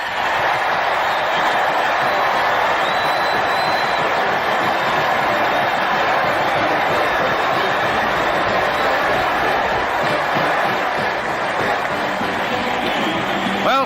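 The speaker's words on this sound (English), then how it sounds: "Listen to that crowd." A 1954 Michigan at Ohio State football stadium crowd roars after a made kick, a huge sustained wall of cheering that stays loud and unbroken from start to finish, heard distant and somewhat muffled.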